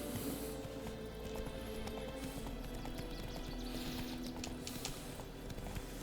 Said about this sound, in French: comme ça pour galoper